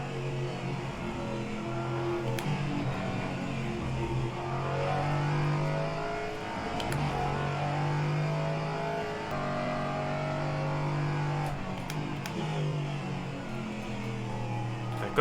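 Race car engine in Assetto Corsa-style racing video game driving a car without ABS, revving and shifting through gears with rising and falling pitch, steady and moderately loud, with no talk.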